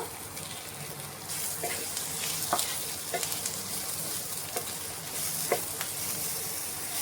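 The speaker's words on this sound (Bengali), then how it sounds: "এখানে এগুলো আমি খুব ভালো করে একটু ভেজে নিয়েছি।" Kashmiri chillies and spices fry in a pan with salt, giving a continuous close crackling sizzle punctuated by a few sharp pops and light stirring scrapes, with no one talking.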